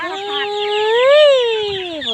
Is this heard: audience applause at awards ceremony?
no